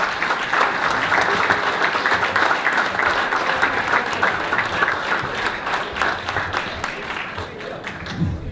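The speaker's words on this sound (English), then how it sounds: "You have a standing ovation, George." A crowd at a Chamber of Commerce honor ceremony gives George Thomas a standing ovation, with dense, sustained applause from many hands clapping steadily throughout, under faint voices.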